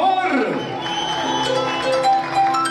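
A crowd at a live salsa show by Rey Sepulveda with an orchestra cheers and applauds, a steady wash of clapping and whoops, loud and continuous, with a tone sounding near the start.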